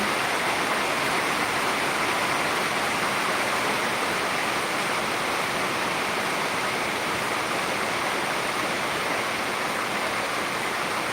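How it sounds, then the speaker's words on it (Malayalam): Heavy monsoon rain pours at Peringottukara in Thrissur, a dense, loud, unbroken wash of hiss with no variation for the full duration, with no voices. "ഇത്ര ആ വർഷത്തിൻ്റെ ശക്തമായ മഴയിലെ ഒന്ന് എടുക്കുന്നു മാത്രം"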